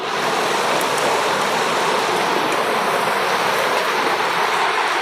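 Soaked red lentils, two kinds of kalai and rice washed together in water, a continuous loud rushing, sloshing wash of water that holds steady from start to end with no voices.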